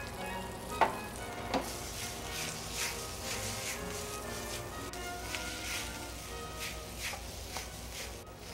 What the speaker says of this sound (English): We add the spinach. And lightly season with salt and fresh ground white pepper.